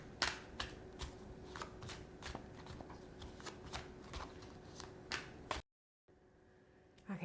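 A tea leaf oracle card deck being shuffled by hand, with a steady run of crisp riffling flicks and slaps close up, then a brief silence and faint handling noise at the end.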